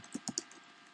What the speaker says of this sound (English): Type in the link.